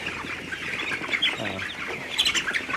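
Broiler chickens on a farm in Israel fill a poultry house with a steady chorus of chirping and squawking, with sharper louder calls rising near the end.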